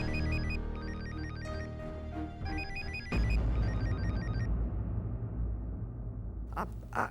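A telephone rings with repeated electronic trilling bursts, overlapping a busy noisy background; the ringing stops partway and clattering noise continues.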